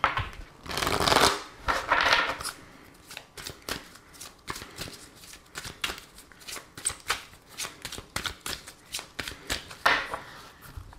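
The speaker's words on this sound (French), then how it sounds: "je vais utiliser cet oracle et on verra aussi des cartes avec les petits cœurs" Oracle cards being shuffled by hand for a love reading: a brisk, continuous run of papery riffles and slaps, close and fairly loud, with dense rapid bursts and a few louder sweeps near the start and end.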